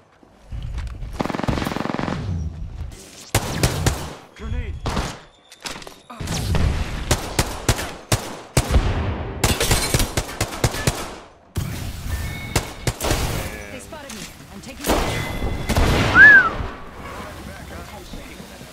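Bursts of automatic gunfire from the Apex Legends video game come in separate volleys with short gaps between them, loud and close, while a player talks over some of them.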